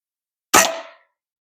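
One sharp shot from a rifle being tested, fired from inside a farm building across a farmyard toward a grassy bank: a single loud crack with a quick decaying tail, alone in near silence.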